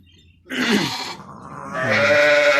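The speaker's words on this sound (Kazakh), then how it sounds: "Міне қозыларымызды аналарынан бөліп қойдық." Sheep and lambs bleat on a farm where the lambs are kept apart from their mothers; loud, close, wavering calls start after a quiet moment and overlap, one long drawn-out bleat carrying to the end.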